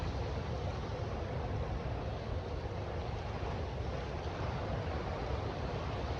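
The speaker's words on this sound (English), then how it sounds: "just letting you listen to the gentle sound of the waves right now" Gentle ocean waves washing at the shore at Swansea Heads on a morning walk, a continuous soft broadband rush with light wind noise and no distinct individual breakers.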